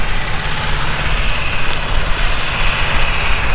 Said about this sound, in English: that is a crappy sounding tractor